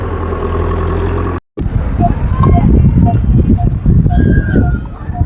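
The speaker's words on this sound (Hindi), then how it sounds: "लगातार मिट्टी डालते हुए ट्रैक्टर देख पा रहे हैं" A tractor engine runs steadily while dumping soil in a village, a continuous mid-pitched drone that stays loud throughout with a brief cut near the start, while someone talks over it.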